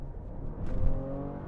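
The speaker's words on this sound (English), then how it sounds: "what a sweet sounding engine." Engine of a Maserati Levante SUV bought as a trashed repo with sludged oil, heard while driving: a steady, fairly loud low rumble that swells briefly mid-way, with no one talking.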